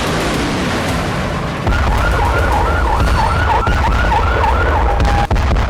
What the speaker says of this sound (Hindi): लेकिन 23 नवंबर की शाम को ही इजराइल में सायरन गूंजने लगे।